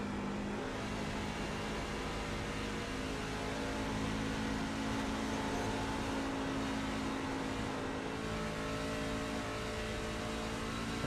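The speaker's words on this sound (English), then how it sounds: "It sounds like these drivers might be starting to shift a little bit." Race trucks' engines roar continuously at a distance in an iRacing truck series race, the pitch wavering slightly as the drivers shift gears, with no talking.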